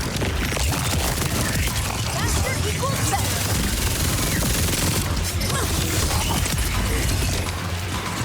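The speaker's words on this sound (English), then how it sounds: "Who's even shooting me from the side?" Dense, continuous gunfire in the video game Borderlands 4, with weapons shooting at the player in a busy firefight. The clatter runs steadily for the whole stretch with mechanical rattles, and speech sits over it.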